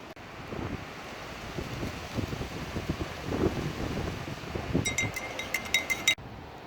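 Wind gusts buffet the microphone beside the water at a pike fishing spot, a steady broadband roar that rises and falls, with a few light clinks near the end.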